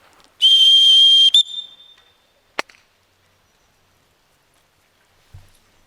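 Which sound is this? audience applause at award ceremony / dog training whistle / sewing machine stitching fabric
dog training whistle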